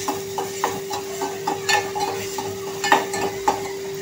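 Tomatoes with turmeric being sautéed in a pan while making masala Maggi noodles, giving a soft sizzle with repeated scraping and clinking of a spoon stirring at a steady rhythm, close and alone.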